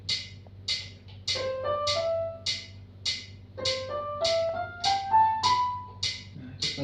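Keyboard playing a stepped run of seven notes, one through seven, at half-beat length, each note repeating in an even pulse over a steady backing rhythm, heard twice in a row, clear and alone.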